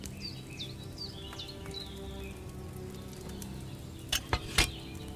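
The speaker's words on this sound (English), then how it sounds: "Hear that bubbling? It's boiling." A cauldron in Kingdom Come: Deliverance II sits over a flame, giving a faint, steady fizzing bubble under a low ambient hum, with bird-like chirps early on and a few sharp taps near the end.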